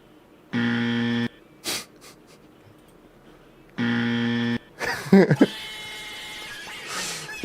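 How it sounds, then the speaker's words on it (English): A wrong-answer buzzer sound effect blares twice, each a flat, harsh tone lasting under a second with a few seconds between, followed by faint shuffling noises. "Wrong buzzer."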